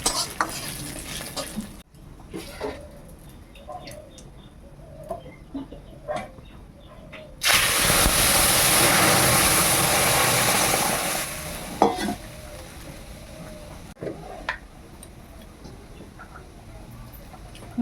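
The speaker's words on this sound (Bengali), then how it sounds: "এখন কিছু ফোড়ন, তেজপাতা আর লঙ্কা দিয়ে ডালটা সাঁতলিয়ে নেব" Spices, bay leaf and chili hit hot oil over boiled mung dal in a home kitchen, setting off a loud, close sizzle that lasts about four seconds, with scattered utensil clinks and stirring scrapes before and after.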